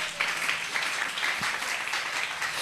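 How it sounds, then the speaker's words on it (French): Members of a Sunday church congregation clap and cheer in acclaim, a dense, even wash of applause sustained throughout at moderate level. "Acclamons très fort le Seigneur"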